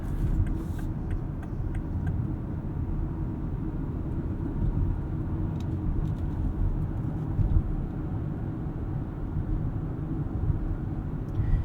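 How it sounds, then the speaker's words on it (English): A 2019 BMW X3 xDrive30i with a two-liter turbo engine on the move, giving a steady, subdued low rumble of engine and road noise that holds evenly throughout with no talk. "Two-liter turbo is pretty quiet, does most of its work in the background."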